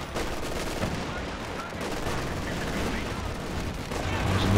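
Tank cannon fire and rattling gunfire from a Company of Heroes 2 battle in which a Cromwell tank is engaged, forming a dense, continuous barrage with a commentator talking over it.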